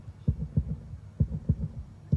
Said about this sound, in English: Just to add to the pressure, the heartbeat going through.